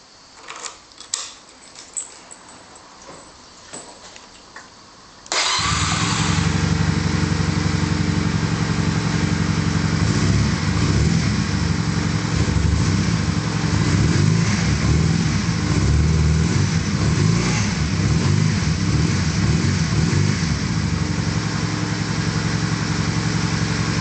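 A 2012 AJS Regal Raptor DD125E 125cc motorcycle, with a few clicks and faint fumbling before the engine catches abruptly, then a loud, close, buzzy single-cylinder idle with small rev swells that continues steadily.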